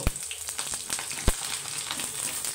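Onions frying in hot oil for a katla fish and bean seed curry, a dense continuous sizzle with sharp crackling pops, close and fairly loud throughout a short stretch.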